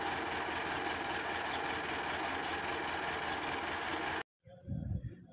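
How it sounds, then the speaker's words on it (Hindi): A Russian tractor pulling a rotavator runs at a loud, steady engine drone for about four seconds, then cuts off abruptly before a rough rumble returns. "माशाल्लाह रूसी ट्रैक्टर है,"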